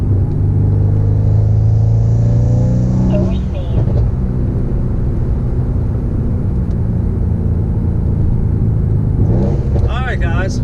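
Mercedes-AMG C63 S (W205) with a newly fitted cold air intake, its engine rumbling loudly and steadily with a couple of rising revs, close by and continuous throughout.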